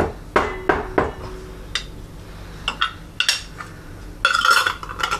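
Several light taps on a glass jar packed with home-canned tomatoes, a quick cluster of close, sharp knocks followed by scattered softer clinks and a brief rattle near the end.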